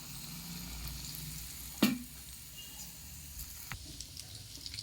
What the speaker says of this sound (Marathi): हिंगावर घालण्याने काय होईल की हिंग छान तेलामध्ये तळाला जाईल